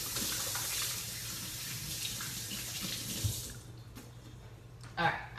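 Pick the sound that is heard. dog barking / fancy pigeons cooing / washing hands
washing hands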